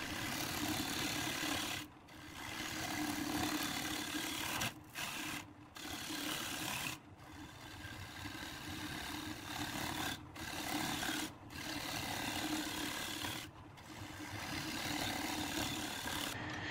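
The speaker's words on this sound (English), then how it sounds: "Now we've got the large bowl scraper out just to finish up the depth on the bottom of the bowl." Large bowl scraper taking finishing passes across the bottom of an ash bowl spinning on a wood lathe: a steady scraping, rasping drone with several short breaks as the tool lifts off, close and fairly loud with no talk.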